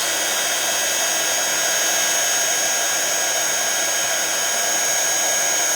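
A heat tool blows hard and steadily throughout, melting embossing powder on a handmade tri-fold card; the loud, even whirring rush holds unbroken, with no talking.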